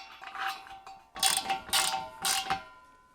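A wrench ratcheting to tighten a 17mm nut on a VEVOR 13-gallon air compressor wheel, with a few close, rhythmic ratchet clicking bursts in quick succession.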